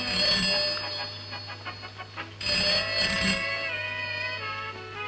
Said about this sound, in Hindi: बॉस, आपका फोन।